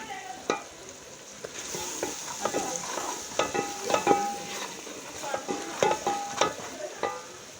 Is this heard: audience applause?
no